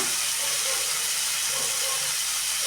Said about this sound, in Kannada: ಒಂದು ಸ್ವಲ್ಪ ಎಣ್ಣೆಯಲ್ಲಿ ಫ್ರೈ ಆಗಬೇಕು